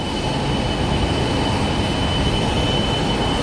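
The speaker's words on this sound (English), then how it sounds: "So we're walking by the heliport, and that's why it's so noisy, because we see a helicopter right there in the background." A helicopter at a New York City heliport beside the East River produces a loud, continuous roaring wash of noise with a faint steady whine, unbroken and close for several seconds.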